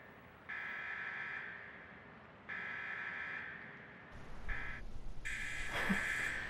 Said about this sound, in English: we're just gonna push the alarm that's in here, and then it's gonna bring all the Shibito out